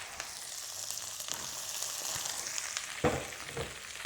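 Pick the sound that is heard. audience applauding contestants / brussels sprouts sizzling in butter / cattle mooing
brussels sprouts sizzling in butter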